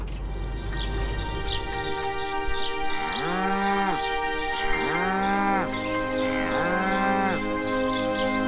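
Charolais cattle in the French countryside give three long, drawn-out moos spaced about two seconds apart, loud and fairly close, with faint birdsong and a low rumble in the background.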